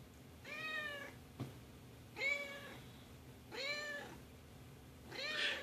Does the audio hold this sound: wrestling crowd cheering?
no